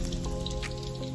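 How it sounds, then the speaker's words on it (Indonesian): Sliced shallots and red chili fry in hot oil, making a dense, steady crackling sizzle heard up close throughout. "kita lagi ngegoreng bawang merah, irisan cabai merah"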